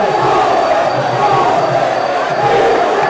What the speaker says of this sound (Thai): ฟังเสียงผู้ชมเชียร์ให้แทนครับ